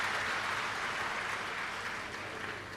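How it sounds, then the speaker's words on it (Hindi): A crowd at a Shiv Mahapuran katha, a Hindu religious discourse, claps loudly to welcome the host family. The dense, continuous applause fades a little toward the end. "एक बार यजमान परिवार के लिए जोरदार ताली बजाकर सभी का स्वागत वंदन अभिनंदन"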